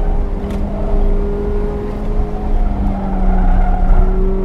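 A 2017 Mazda ND on BFGoodrich Rival 1.5 tyres revs hard around a track, its engine droning steadily and rising toward the limiter, heard from inside the car with no talking.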